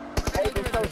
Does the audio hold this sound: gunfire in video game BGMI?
yes